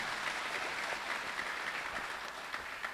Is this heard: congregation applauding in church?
yes